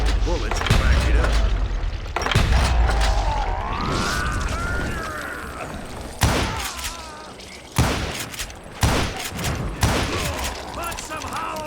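Gunfire in the Call of Juarez Gunslinger video game, with scattered booming shots and bursts amid a busy game soundtrack, while a voice talks over part of it.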